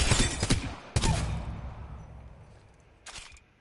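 Gunfire from a stock G7 light machine gun in a battle royale shooter, a burst of several loud shots up front, another shot after a short gap, then a fading tail and a final brief burst.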